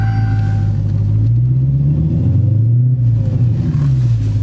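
A Hellcat's engine rumbles loudly up close as it starts and pulls away, a deep throaty drone with slow swells in pitch as it moves off, no voices over it.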